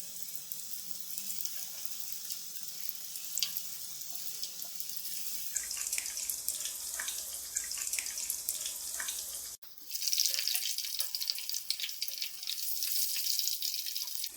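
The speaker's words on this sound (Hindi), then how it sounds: "अब हम पकोड़े फ्राई करेंगे। ऑयल को हमने खासा तेज गरम कर लिया है।" Coated potato pakoras fry in very hot oil with a steady, loud hiss and crackle, plus dense bubbling and spitting that swells partway through. No voices.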